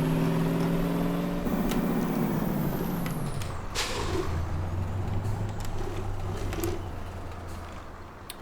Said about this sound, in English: And this lorry makes a good sound.